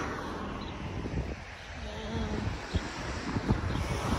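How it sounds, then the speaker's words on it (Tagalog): Steady wind rushing and buffeting the microphone outdoors, with a low roar and a few gusty thumps, no voices. "ang lakas ng hangin"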